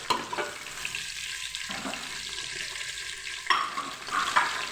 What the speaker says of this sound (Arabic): خلو البصله تاعنا تتقلى، نزيد لها طوماطيس